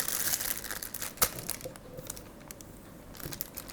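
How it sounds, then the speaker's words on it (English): A plain plastic piping bag with no tip crinkles and rustles steadily as it is handled and filled with tiramisu cream, close up, with one sharper crackle partway through. "it's just plain plastic bag or plain piping bag"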